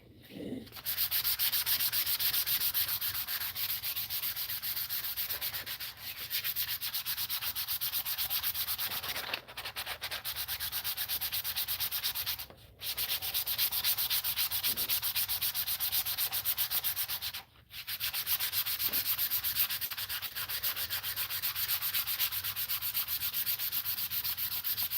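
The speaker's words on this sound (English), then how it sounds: "you want to do this in kind of a crisscross pattern versus, you know, if you're going up and down with the previous sandpaper" Steady hand sanding with sandpaper in a crisscross pattern on a custom brush guard for a Volvo XC70: a continuous dry rasping rub that pauses briefly a few times.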